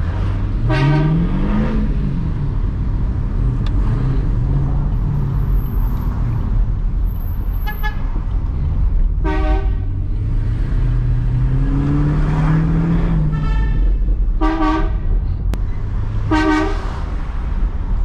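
A loud ship horn fitted to a Chevrolet Camaro blares in repeated blasts, some long and some short, over the engine's low idle and revving on a street.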